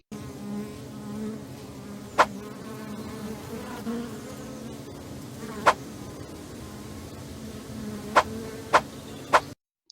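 Insect-like buzzing from a bee in a platformer game scene, a steady drone with several sharp clicks spaced through it.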